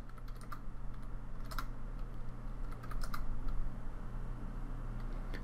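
Quiet typing on a computer keyboard while working in SketchUp, a quick cluster of light clicking keystrokes over a low steady hum, close and without speech.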